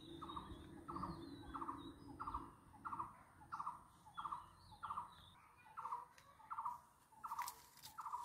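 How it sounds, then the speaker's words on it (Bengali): Small birds feeding on nectar from the flowers of a kocha (Jatropha) plant in a rural setting give a steady series of sharp, scratchy squabbling calls, roughly two per second, fairly faint, with a louder burst near the end. "এই যে শুনুন, ক্যাচ ক্যাচ করে ডাকছে।"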